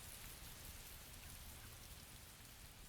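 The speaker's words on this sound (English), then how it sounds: "Chieftain, make the rain go away." Steady rain falls in the video game Fable 2, an even, continuous hiss and patter with no voices.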